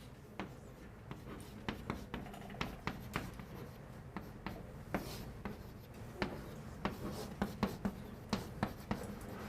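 Chalk tapping and scraping across a blackboard during a university calculus lecture, a steady run of short, sharp strokes repeating irregularly for several seconds, close and clear with no talking.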